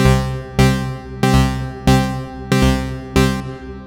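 A synthesizer plays a repeating sequence of six bright, buzzy notes, each struck sharply and decaying, in a steady rhythm.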